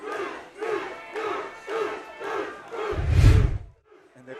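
A fight crowd chants rhythmically for Duece Carter, about seven evenly spaced loud bursts of voices building to a final swell with a heavy thump before a brief quiet.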